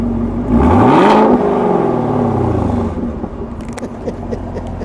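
A 2017 Chevrolet Camaro ZL1 in Hyper Blue, revved in neutral: one loud, throaty rev climbs and falls away, then the engine settles into a steady idle rumble.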